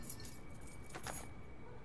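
A ring of keys jangles briefly in the SOMA video game, a short soft metallic rattle over a steady low background hum.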